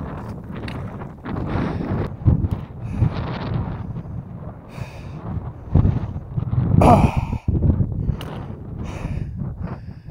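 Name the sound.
wind blowing on a mountain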